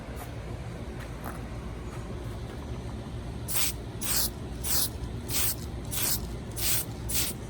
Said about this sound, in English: I'm paying more attention to the spraying of the car than I